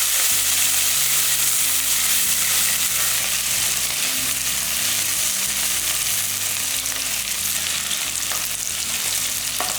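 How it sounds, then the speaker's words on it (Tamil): Small shallots and coriander stems fry in a pan for Chettinad mutton curry, a loud continuous sizzle with steady scraping strokes of a spatula throughout. "இது நல்லா வதங்கட்டும்"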